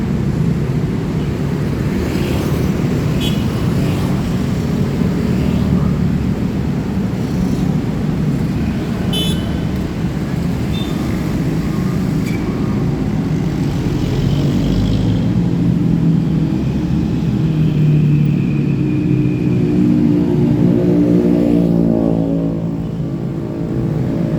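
Road traffic at the Pettarani flyover in Makassar, a continuous loud rumble of passing cars and motorbikes with occasional horn toots and engine swells over the whole stretch.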